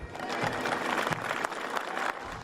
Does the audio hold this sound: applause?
yes